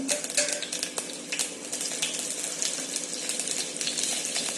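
Mustard seeds, cumin and sliced chillies sizzling in hot oil, giving a steady, bright crackling hiss with scattered pops throughout and no talking.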